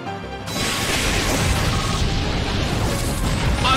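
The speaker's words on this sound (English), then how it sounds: "Annihilated by explosion!" Explosion move blast from the Pokémon Battle Revolution video game: a loud crashing burst that cuts in abruptly and then roars on as sustained, rumbling noise without letting up.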